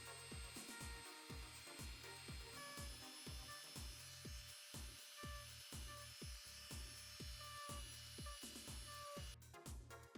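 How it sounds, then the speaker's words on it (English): A rotary tool fitted with a stone bit cuts into foam, a steady high motor whine with a regular pulsing grind as the bit bites repeatedly, close and continuous, ending in a brief scraping burst. "Switching up to a stone bit, this gives me finer cuts into the foam."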